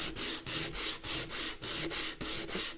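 Hand sanding a carved wooden bass guitar body to smooth out rasp marks, a steady back-and-forth rubbing scrape repeating in even strokes about twice per second, close and clear with no talk.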